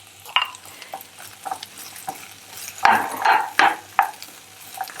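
Shakshuka sizzles in a pan as spices are stirred in, with scraping spoon strokes against the pan rising and falling in irregular bursts over a steady low frying hiss, close and moderately loud.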